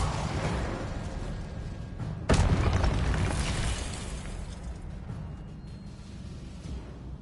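Incendio and Confringo spells from Hogwarts Legacy go off with a fiery blast and sudden loud burst, then fade into a dense rumbling crackle with no voices.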